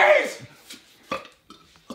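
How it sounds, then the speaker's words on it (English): A person lets out a loud burp at the start, followed by a few shorter, quieter vocal bursts close to the microphone. "He's burping."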